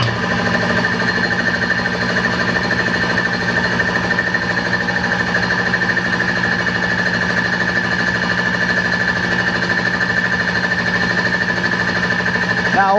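A Kobalt XC602000 60-gallon, 175 PSI air compressor runs with a loud, steady mechanical hum and a fast, even pump chatter that stays constant throughout, with no voices.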